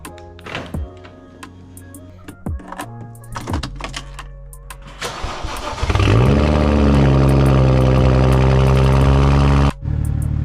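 A BMW car goes through a series of clicks and thunks before its engine cranks and catches, then settles into a loud, steady idle that runs for several seconds before it briefly dips near the end.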